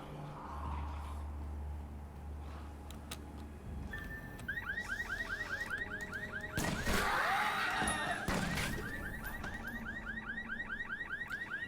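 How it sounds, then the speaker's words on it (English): A car alarm set off by jumping on a car in the video game Secret World Legends blares in rapid repeating electronic warbles, loud and continuous, with a brief crashing impact partway through over game ambience. "Jump on a car to trigger alarms."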